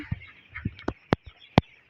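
Young broiler chicks in a poultry shed, a flock suffering from pneumonia. Several short, sharp peeping calls come one after another, close and fairly clear, against a quiet background hum.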